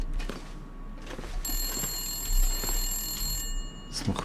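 An unpowered telephone's bell rings inside The Long Dark game world, a steady bright metallic ring lasting a couple of seconds over soft ambient rumble and faint movement sounds.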